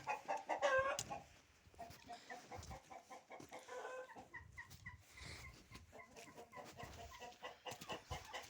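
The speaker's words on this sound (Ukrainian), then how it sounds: "От такі курочки в нас." Chickens cluck in short repeated bursts nearby, with a few higher squawks at the start over quiet, muddy farmyard background.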